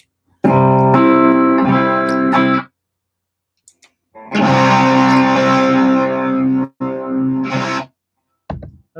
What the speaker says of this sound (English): So that's the HX Stomp overdrive right now.